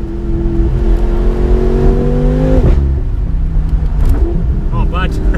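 A BMW F10 M5 Competition, a roughly two-ton saloon, accelerates hard; the loud engine note climbs steadily, drops at a gear change, then pulls up again, with a voice talking over it.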